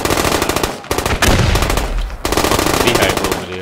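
US Army soldiers fire weapons in a loud, close burst of rapid machine-gun fire that runs almost continuously, with two brief gaps between long volleys.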